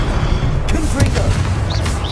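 The Confringo fire blast spell in Hogwarts Legacy goes off as a loud, close boom with crackling bursts over a dense, rumbling battle din.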